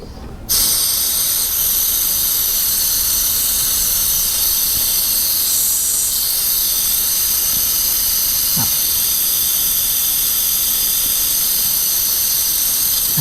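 A pneumatic brake bleeder draws brake fluid from a lower caliper, giving a loud, steady airy hiss that runs unbroken and close for the whole stretch, with a faint brief squeak partway through and no talking.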